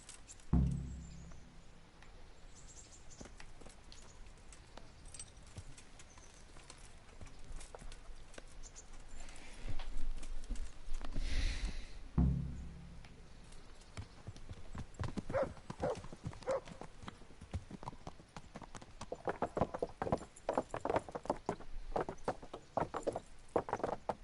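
Rhythmic clip-clop of horse hooves trotting in the video game Kingdom Come, moderately close, growing busier toward the end, with some faint background noise.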